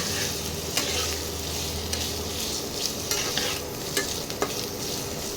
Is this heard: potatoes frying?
yes